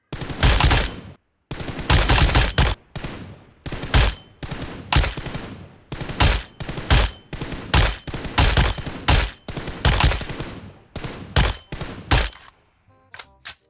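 Rapid bursts of loud gunfire from burst-fire shooting in the PUBG Mobile video game; a dozen or so close, sharp bursts are separated by short pauses, then the shots fade out at the end.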